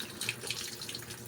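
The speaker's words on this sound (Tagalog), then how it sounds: "pumapasok na agad yung tubig" Water rushes into a Fujidenzo washing machine drum the moment it is powered on, a steady close hiss of running water with no one talking.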